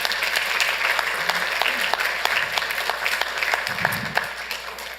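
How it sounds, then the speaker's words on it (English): Applause fills a Santa Ana city council chamber, dense and sustained clapping from the gathered crowd at a steady, fairly loud level for several seconds. "Let's give them a round of applause for that."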